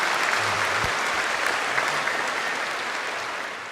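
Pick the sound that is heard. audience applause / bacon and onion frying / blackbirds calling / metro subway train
audience applause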